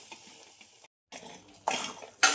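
A spoon scrapes and clatters through a thick ground spice paste in a pan for Burhanpur-style cut vada curry, a short run of stirring, then a brief silence and louder bursts of scraping near the end.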